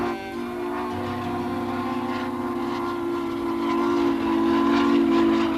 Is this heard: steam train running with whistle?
yes